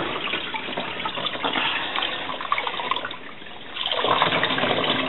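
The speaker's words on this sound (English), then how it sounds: "Doesn't matter how much water's in it, because it just drains right back in the same tank." Water pours and splashes steadily as it drains back into the tank of a compact mini washing machine, a continuous close rushing flow that briefly eases and then surges again, with no talking.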